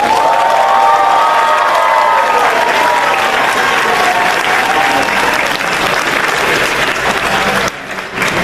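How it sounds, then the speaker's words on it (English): Sustained, loud audience applause at a University of California Davis graduation ceremony, with scattered cheers and crowd noise mixed in, dropping off slightly near the end. "Let's give a round of applause."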